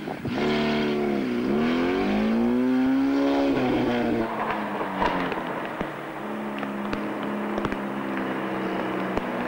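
Stunt car driven on two wheels at a stunt show, its engine revving and whining loudly and steadily close by, with a few sharp clicks and knocks near the end.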